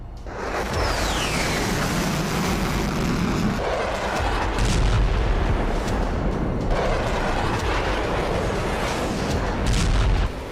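A 20 mm M61A1 cannon on an F-16 fighter jet fires in heavy, booming bursts that fill the space with a dense roar. A whistling sweep passes early on, and the blasts continue densely to the end.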